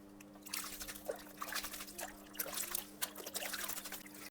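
A tea-stained shirt is rinsed in a basin of water, with splashing, dripping and trickling that rises and falls in uneven bursts over a faint steady hum, no speech.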